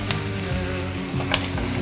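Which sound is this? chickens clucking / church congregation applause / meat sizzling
meat sizzling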